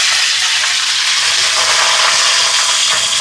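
Green chilies and curry leaves being tempered in hot oil, a dense steady sizzle and crackle close up, filling the whole stretch with no talking.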